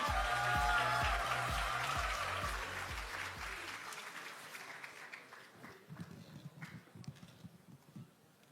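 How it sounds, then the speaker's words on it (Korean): A large audience at the Democratic Party's 70th anniversary ceremony applauds to welcome committee chair Kwon No-gap, loud at first over a rhythmic low beat, then thinning out and fading into scattered quieter sounds. "위원장님을 큰 박수로 맞이해 주시기 바랍니다."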